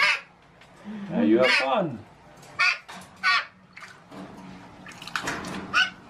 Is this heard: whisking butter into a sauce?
no